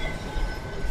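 A Bracel freight train passes nearby on a Brazilian railway line, a loud, dense rumble of wagons rolling by throughout.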